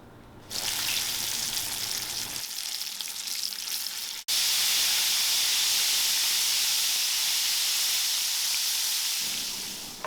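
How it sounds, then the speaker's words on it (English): Flour-coated, peppered smelt fry in a hot frying pan, a loud, steady sizzling hiss that swells sharply as more fish hit the oil and continues at full strength, close up with no talk. "And then we're just going to throw them in the frying pan."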